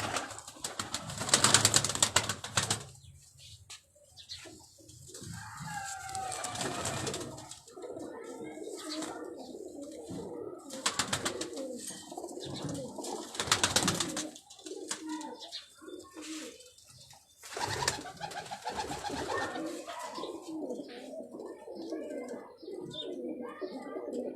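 Pigeons coo repeatedly with a few bursts of wing flapping, while people talk nearby throughout.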